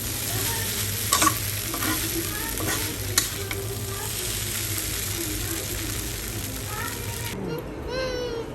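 Noodles with masala being stirred and fried in a pan, a steady close sizzle with scraping stirs and a couple of sharp utensil clinks, children's voices chattering in the background and a voice speaking near the end.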